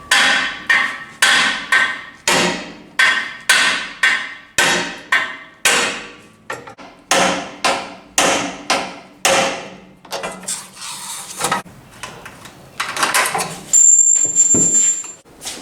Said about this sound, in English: You'll notice Vlad was hammering on the knuckle itself.